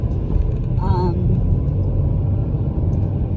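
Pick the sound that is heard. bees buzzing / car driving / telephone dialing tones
car driving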